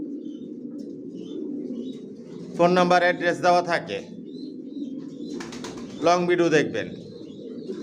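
Original racer pigeons of the Johnson chocolate mealy line, young and adult, coo softly in their home loft. A low, steady cooing runs throughout, partly under a man's speech.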